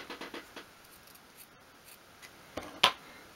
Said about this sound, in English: we just want to cut a square of fabric